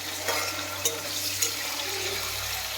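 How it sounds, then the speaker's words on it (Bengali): Green beans fry in a pan as a Bengali home cook prepares them alongside capsicum and carrots for fried rice, giving a continuous loud hiss and sizzle with a few sharp crackles and stirring knocks. "বিনটা ভাজি।"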